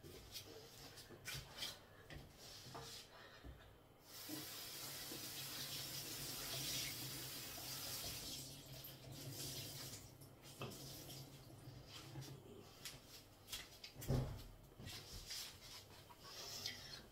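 Tap water runs steadily into a sink to rinse a cleaned surface, a continuous splashing rush after a few seconds of handling noises, with scattered knocks and rubbing, fairly faint.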